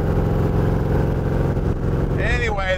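A 1933 Ford Roadster street rod's engine drones steadily and loudly while driving, with a rising whine near the end and talk over the top.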